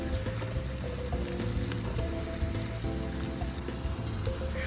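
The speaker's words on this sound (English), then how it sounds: "add those 2 chicken breast cubes right into the frying pan" Chicken breast cubes frying in a pan for tikka masala teriyaki noodles, a dense steady sizzle with faint scraping and clinks of stirring, close and continuous with no talking.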